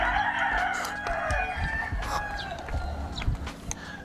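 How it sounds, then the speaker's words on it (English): Chickens clucking and a rooster crowing in Bali, with repeated crows and busy clucks filling the scene at close range, steady and loud throughout with no talk. "Look at all those chickens."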